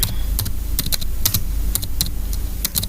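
Rapid, steady typing on a computer keyboard while writing HTML code, with crisp close keystrokes clustered in quick bursts over a constant low hum.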